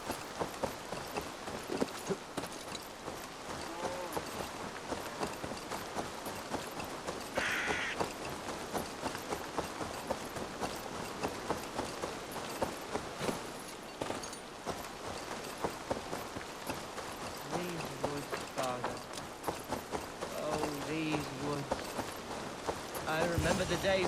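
Horse hooves in Assassin's Creed Valhalla, a continuous light clip-clop rhythm under game ambience with occasional crow caws and talking voices throughout.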